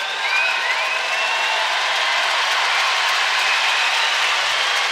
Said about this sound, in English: you can hear the crowd erupting in the background